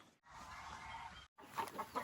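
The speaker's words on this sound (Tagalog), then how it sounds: "Ang mga manok." Chickens at a construction-site yard give soft, close clucks in short bursts, separated by brief silent gaps.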